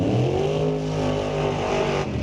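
At Mission Raceway Park, a 94 Beretta and a dragster roar loudly at the drag strip, a continuous dense engine drone with rising and falling tones and no voices.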